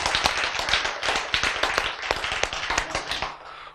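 An audience at a church gathering claps in thanks, a dense burst of many overlapping hand claps, loud and steady before easing off slightly at the end.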